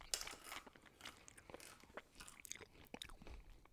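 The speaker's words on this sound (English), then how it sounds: "You're going to get a crunch. It might be loud." Salted peanuts are chewed close to the mic, giving a run of crisp, irregular crunches and bites over a few seconds with no talk.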